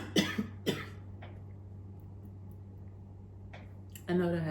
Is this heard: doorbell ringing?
no